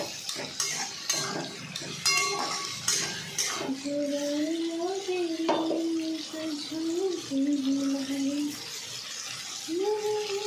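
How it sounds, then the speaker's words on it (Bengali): Capsicum and potato fry in a pan while a utensil stirs and clatters against the metal. A voice talks over the cooking throughout. "এবার আমি এর মধ্যে অ্যাড করবো ক্যাপসিকামটা দিয়েও ভাজতে হবে ভালো করে"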